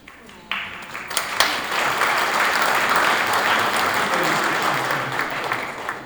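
Wedding guests applaud at the ceremony for Tom and Andres, right after a closing prayer. Loud, steady clapping from the whole room starts after a brief lead-in and carries on unbroken to the end, with no voices over it.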